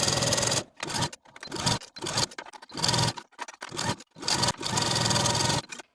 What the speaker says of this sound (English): take this to your sewing machine and sew all around the neckline